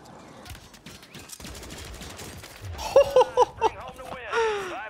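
Bruen rifle fired from a mounted position in Warzone, a quick string of loud close shots in bursts following a stretch of noisy game ambience, with tonal game effects ringing behind.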